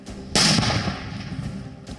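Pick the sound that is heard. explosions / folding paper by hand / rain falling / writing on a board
explosions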